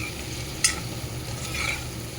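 Onion sizzles in a frying pan as a utensil scrapes sharply against the pan once, followed by softer stirring over the steady frying hiss.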